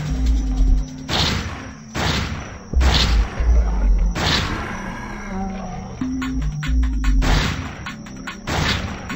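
A shotgun in the zombie video game Zombocalypse fires in a series of heavy booming blasts, about half a dozen loud shots spaced roughly a second apart with brief gaps of game noise between them.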